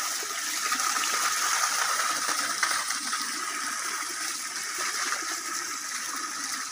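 Water rushes steadily from a pipe fed by a mountain waterfall, a continuous close hiss and gush with no pauses and no voices.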